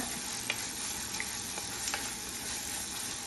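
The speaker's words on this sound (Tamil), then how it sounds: "நமக்கு வெங்காயம் இன்னும் கொஞ்சம் நல்லா வதங்கி வரட்டும்" Sliced onions sautéing with salt in a pan for paneer bhurji gravy, a steady soft sizzle with a few faint scrapes and clicks of stirring, alone without talk.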